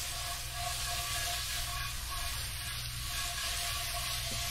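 Fish frying in a hot pan coated with butter, a soft, steady sizzle and hiss running throughout at low volume with a faint low hum beneath.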